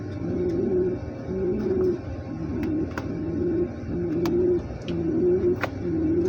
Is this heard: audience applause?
no